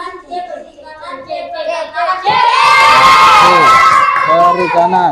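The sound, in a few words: children applauding and cheering in class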